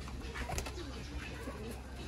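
Pigeons in a loft of about 32 birds, kept in pairs, coo softly and steadily close by, a low continuous murmur with faint rustling and no one speaking.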